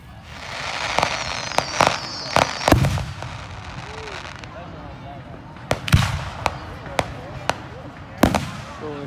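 Fireworks set off in a park during an Independence Day celebration, a string of sharp distant bangs and pops at irregular intervals, with people talking nearby.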